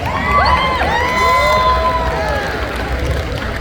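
A crowd at a pinup pageant during a tattoo expo cheers and whoops loudly and continuously for a contestant, with bright overlapping shouts and a dense wash of applause.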